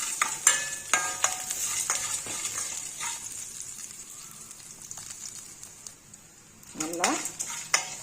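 Garlic cloves sautéing in sesame oil for a curry leaf rice dish, a soft steady sizzle broken by sharp scrapes and clinks of a spoon against the pan, with a louder stirring burst near the end.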